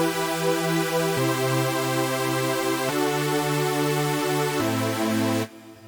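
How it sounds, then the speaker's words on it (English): A basic supersaw synth plays a progression of sustained chords, changing roughly every second and a bit, bright and buzzy with a steady full level before cutting off abruptly near the end. "I've set this project up with a basic supersaw sort of sound"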